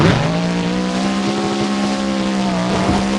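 A monster truck's engine roars loud and steady at a freestyle tournament in Jacksonville, holding a sustained growl as the truck drives up over a row of parked semi-trucks, with no voices over it.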